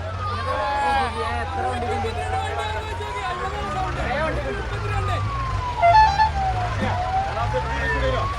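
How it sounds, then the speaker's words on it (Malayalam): An ambulance siren wails, rising and falling steadily, above street noise and engine rumble at a bullock-cart race in Karulayi, Kerala, while people talk and call out close by. "ambulance sound"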